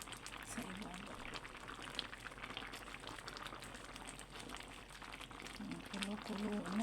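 Crab in coconut milk simmers in a pot, a soft continuous bubbling with occasional louder pops, heard faintly beneath a person talking nearby.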